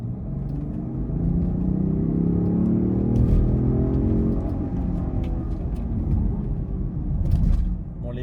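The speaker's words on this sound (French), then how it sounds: "je vais essayer de vous faire une petite accélération" A 510 hp Range Rover accelerating, a steady loud engine rumble that swells and holds for several seconds, with a brief push near the end.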